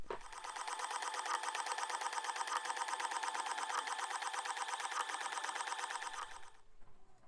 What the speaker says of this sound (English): You might hear the printer still in the background